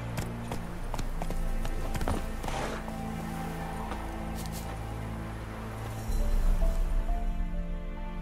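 Roach the horse galloping in The Witcher 3, steady clip-clop of hooves in a quick rhythm with rustling and ambient game sounds, a thud near the end.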